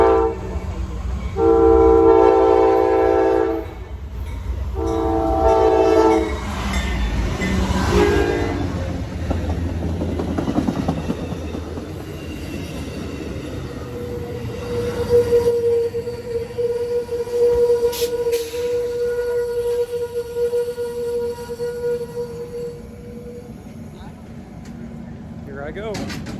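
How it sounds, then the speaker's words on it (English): Amtrak passenger Train 49 bound for Chicago rolls past with loud, sustained horn blasts up close, followed by rumbling wheels and clattering cars fading off, with a person talking over it. "This will be my very first Amtrak train in the USA that I'll ever be taking."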